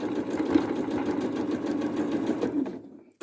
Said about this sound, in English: I'm just top stitching this down